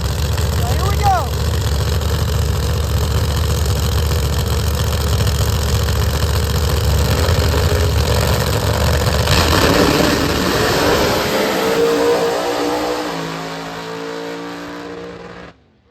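An outlaw promod drag race car at London Dragway idles loudly with a deep, rough rumble, then the engine roars up in a hard launch and fades away down the track, with people talking nearby.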